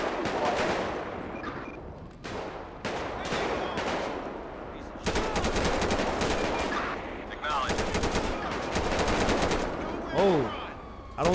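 Rapid bursts of automatic gunfire crackle repeatedly during a gang-unit police shootout in the video game GTA V with the LSPDFR mod, loud and dense throughout, with some wavering siren-like tones mixed in.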